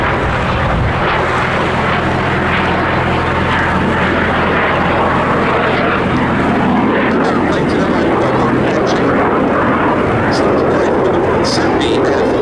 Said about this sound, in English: That's the second of the two aircraft you can see performing a barrel roll in front of us.